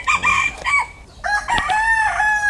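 A Tagalo fighting cock crows twice, loud and close, each a long, drawn-out call, the first cut short and the second held longer, with a faint cluck between them.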